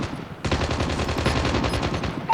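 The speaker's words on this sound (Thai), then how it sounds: "ยิงแบบโนสโคปมันยิงแบบโนสโคปเนาะ" No-scope gunfire in the Call of Duty Mobile video game: a fast, unbroken burst of loud, punchy shots that rattle on for about two seconds with no voices over them.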